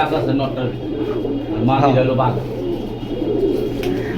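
Pigeons at a pigeon collection coo softly in a low, rolling rhythm close by, mixed with someone talking over them.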